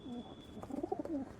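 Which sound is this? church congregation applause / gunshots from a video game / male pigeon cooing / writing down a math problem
male pigeon cooing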